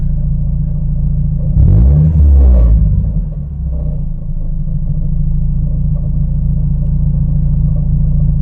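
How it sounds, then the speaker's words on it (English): A Mazda Miata's exhaust rattles in a short, loud burst of vibration over the steady, close engine idle, which then continues evenly. "Exhaust rattle."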